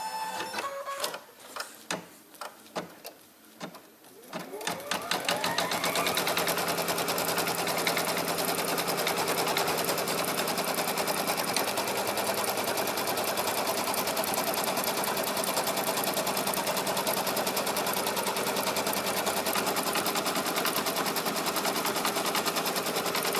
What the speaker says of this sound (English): I'm going to put it back in the hoop and stitch out the next step, which is going to attach this top piece to the bottom.